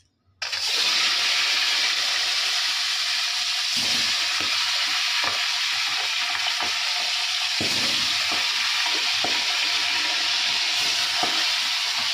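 Pond fish sizzle in a pan of hot oil: after a brief silent start, a loud, continuous frying hiss with scattered crackles and light clicks carries on to the end, with no talking.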